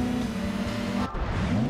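Plymouth muscle car engine in the Gran Turismo 2 racing game, a steady droning hum at even loudness that drops out abruptly partway, then returns rougher.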